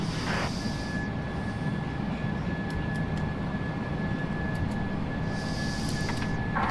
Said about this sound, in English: those engines sound 10 times better than they did in 2020